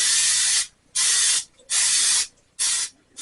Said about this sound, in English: we're going to give our pan a spray here.